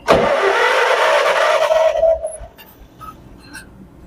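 An abandoned John Deere 420W tractor engine cranks on its starter with a loud, steady whirring spin for about two seconds, then cuts off into near silence.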